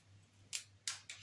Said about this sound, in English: I will start using scissors